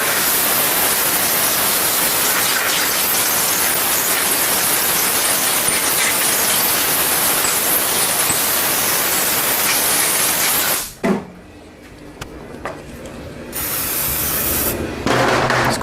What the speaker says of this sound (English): Compressed air.